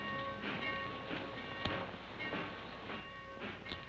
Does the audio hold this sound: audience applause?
no